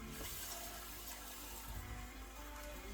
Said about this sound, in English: I'm going to add a little water to this one.